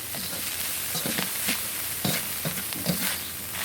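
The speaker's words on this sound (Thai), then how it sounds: "ผัดไปเรื่อยๆก่อนนะครับ อย่าอย่าไฟแรงเกิน" Quail stir-fried dry in a pan over moderate heat, steady close sizzling broken by repeated scraping stir strokes in an uneven rhythm, no voices.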